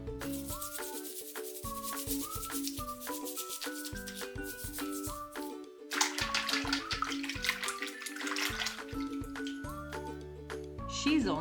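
A toy kangaroo being scrubbed in bath water, splashing and rubbing sounds throughout under cheerful background music with tonal melody.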